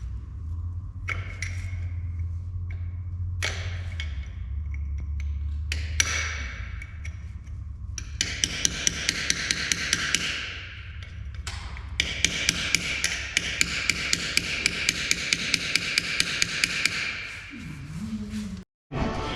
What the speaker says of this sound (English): take your hammer and a chisel and break them loose first